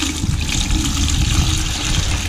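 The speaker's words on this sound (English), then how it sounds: "I'm going to pour this into the filter," Liquid pours steadily into a filter sieve while silver is being recovered, a continuous close splashing trickle with no pauses.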